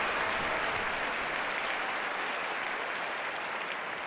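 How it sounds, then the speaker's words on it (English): Simulated stadium crowd applauding and cheering after a point in a London 2012 Olympics sports video game, a steady, dense wash of clapping that stays loud and even throughout with no voices over it. "The crowd are on their feet with that point one."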